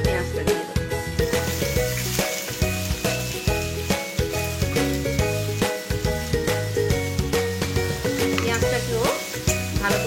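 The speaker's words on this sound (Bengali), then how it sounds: "পেঁয়াজটাকেও ভালো করে একটু ভেজে নিতে হবে।" Chopped onion frying with ginger and garlic in a pan, a loud continuous sizzle over background music with a regular beat, no speech.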